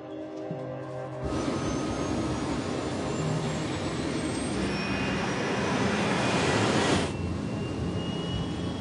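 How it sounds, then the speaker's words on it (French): Concorde jet engines roar steadily as the airliner accelerates, a broad, loud rumble that swells toward the end before easing slightly, with no talking over it. "Les moteurs fonctionnent, la vitesse augmente."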